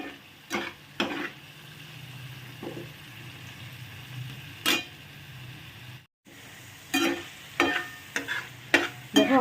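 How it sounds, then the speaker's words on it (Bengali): Fried potatoes are stirred into sizzling spice paste in a pan, producing a low frying hiss with intermittent scraping strokes of a spatula and a brief gap midway, no talking. "এই মশলাটা যখন দেখো একটু তেল তেল মতো উঠে আসছে, এর মধ্যে ভেজে রাখা আলুটাও দিয়ে দিচ্ছি"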